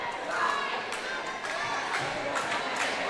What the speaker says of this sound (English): The crowd is getting loud here at Pacelli Catholic.